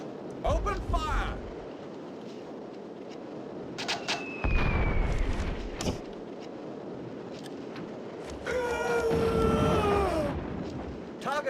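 Cannon fire from naval combat in the Sea of Claws video game: several heavy booming bursts at mid distance, with a longer rumbling barrage near the end, over game sound effects and background voices.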